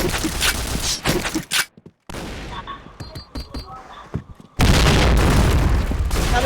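Grenade explosions and gunfire in the Point Blank shooter game, loud booming blasts with sharp bursts of shots, a brief dropout, then a heavy sustained roar of an explosion at the end.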